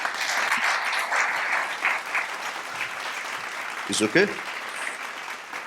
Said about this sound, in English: Please, another round of applause for Mr. Avinash.